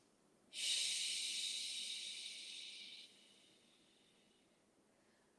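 A long, steady breath exhaled during a kneeling yoga stretch, close and fairly loud, rising sharply then fading gradually over several seconds, alone in a quiet room.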